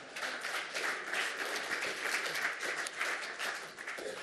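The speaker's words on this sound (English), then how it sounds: "give him a huge round of applause" An audience at a Chaos Communication Congress hacking conference applauds a lightning talk on console hacking, with steady, dense clapping from a large crowd that holds for the whole stretch.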